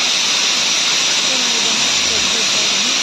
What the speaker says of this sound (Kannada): ಈಗ 2 ವಿಷಲ್ ಆಗಿದೆ.